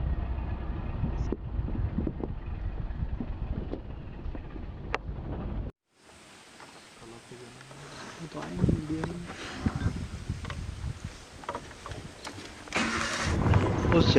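Jungle safari vehicle engine running on a tiger-watching drive in the Indian forest, a steady low rumble under outdoor noise that cuts out briefly, then returns louder with rattling, while people talk.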